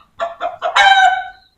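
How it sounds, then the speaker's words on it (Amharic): Chicken calling close by, three short clucks in quick succession and then a longer drawn-out squawk, loud and clear with no other sound around it. "ቤቢ እየተሯሯጠ ነው ዶሮውን ለመያዝ"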